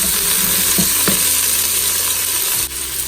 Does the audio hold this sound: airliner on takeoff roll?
no